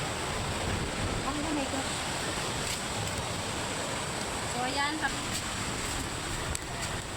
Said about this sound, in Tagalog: mag-low tide na siya, kaya yung dagat is hindi masyadong makaano yung mga alon na yun dito